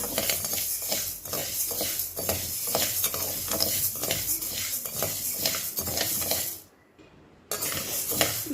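Black gram roasted in a pan, with a dense, steady rattle and clatter of a spatula scraping and stirring the dry lentils against metal, close and loud, cutting out briefly near the end before resuming.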